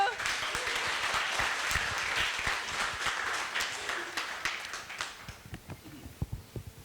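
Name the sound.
audience applause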